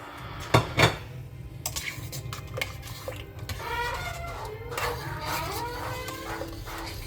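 A metal spoon stirs chunks of meat in a cooking pot of harira over low heat, with two sharp clanks early on, then softer scraping and clinking over a steady low background rumble.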